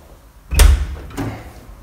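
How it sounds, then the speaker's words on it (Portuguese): An apartment door in a rented flat in Viseu, Portugal, shuts with a heavy, close thud, followed by a softer click or rattle of the latch a moment later; no talking. "Porta fechou."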